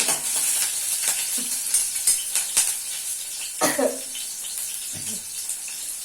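Green chillies go into a hot pan and hiss briefly, the bright sizzle broken by a few clinks and light stirring, with short bursts of nearby voice.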